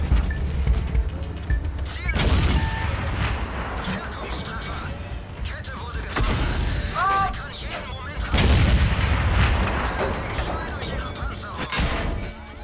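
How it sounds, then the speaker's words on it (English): Tank cannon shots and explosions in the World of Tanks game mode Steel Hunter land as several heavy booms spaced seconds apart over engine and battle noise, with a player talking throughout. "I'm being shot by 2 guys."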